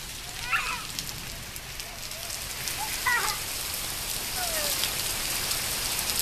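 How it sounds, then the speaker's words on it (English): Steady rain patters on surfaces outdoors during a rain and thunder shower, a constant wash of drops with a few faint voices and short chirpy sounds rising briefly above it. "You like that rain?"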